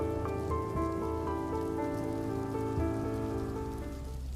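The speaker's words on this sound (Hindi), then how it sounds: "हाँ, हम रास्ता भटक गए हैं, तूफान में फंस गए हैं।" Storm rain patters steadily in a village setting, a dense wash of drops under a low, sustained droning tone that holds throughout.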